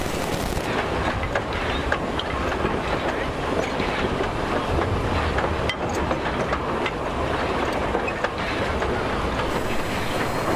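A vintage steam train runs along the restored Bay of Islands railway in New Zealand, giving a steady, continuous rolling rumble with clattering wheels on track and some wind noise that holds at an even loudness throughout.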